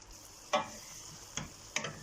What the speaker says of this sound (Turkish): Turşumuz kaynıyor. Karıştıralım.